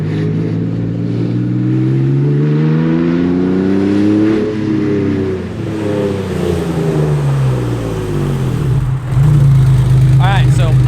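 Porsche 964 with a swapped 6-speed gearbox, its engine revving hard against the limiter with a loud exhaust, pitch sweeping up and down repeatedly from inside the car, a voice briefly heard over it.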